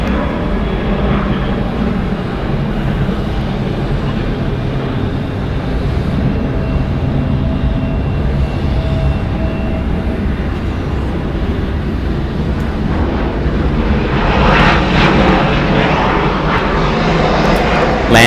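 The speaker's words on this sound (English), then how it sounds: "Departing is Delta Airlines Flight 2207 going to Nashville. It's a Boeing 737-900ER." A ten-year-old Delta Air Lines Boeing 737-900ER jet departs Atlanta Hartsfield-Jackson airport, its engines a loud, steady roar across the whole stretch that swells in the final seconds, with no talk over it.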